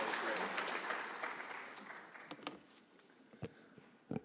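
An audience at a climate and cleanup panel event applauds the panelists, clapping that starts fairly full and tapers to a few scattered claps.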